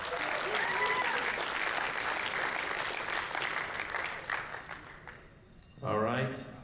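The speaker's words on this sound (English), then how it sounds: "One more round of applause for them." Applause fills a powerlifting competition hall, dense clapping for about five seconds that thins out, then a voice on the public address speaks.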